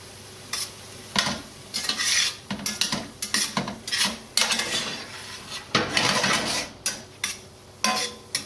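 A spoon stirs mushroom risotto in a pan as the mushroom liquor reduces, giving a rhythmic series of scraping strokes against the pan over a gentle sizzle, close and steady.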